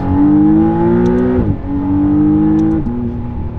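A McLaren Artura supercar pulling hard at half throttle, its engine loud and close as it climbs in pitch, then dropping briefly at a gear change before climbing again, with no speech.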